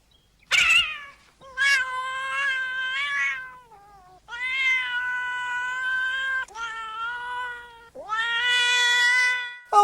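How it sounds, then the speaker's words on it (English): Dubbed cat screams from the film Milo and Otis: a series of long, loud, drawn-out yowls and caterwauls, several in a row with short gaps, close and clear with no talk over them. "I know the cat screams are added audio dubs, rather poorly I must add"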